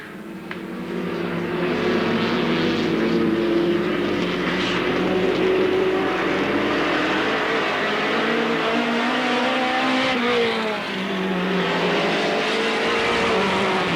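Race cars lapping Alwalton Raceway in 1983, a dense, continuous engine roar from several cars heard from trackside, sustained at steady loudness with a brief dip and a rising pitch sweep near the end.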